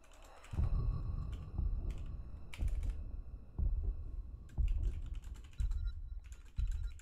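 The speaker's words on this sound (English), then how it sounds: "Excuse my typing" Typing on a computer keyboard comes in clattering bursts of quick key presses separated by short pauses. The sound is close and fairly loud, with no one talking during it.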